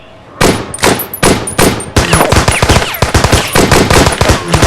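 Gunfire from an action movie sounds as loud, close bursts of rapid automatic shots. A few single shots ring out first, then a dense rattling volley continues to the end.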